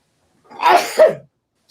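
One sharp sneeze bursts out close by, with no other sound around it.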